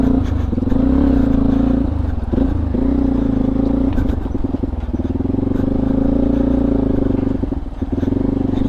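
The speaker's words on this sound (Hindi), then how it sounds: "बिज्जू भाई जो हैं वो ट्रैक्टर ले जा रहे हैं दूसरी साइड" A tractor being driven away on a farm track gives a steady, loud engine drone with some clattering and small variations in load, continuous throughout with no talk over it.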